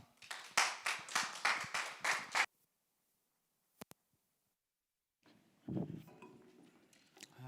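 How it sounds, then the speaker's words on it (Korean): Brief burst of clapping greets a pastor at a young adults' church worship service, a few seconds of hands clapping at moderate volume before it stops abruptly, followed by near silence and then a voice talking. "박수로 환영하도록 하겠습니다"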